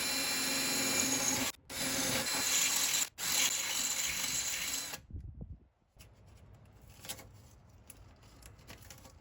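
A power drill runs loudly with a 3/16 drill bit, boring holes into a Tacoma hood for a strut upgrade, in two short dropouts and then a stop, followed by quieter handling and scraping sounds.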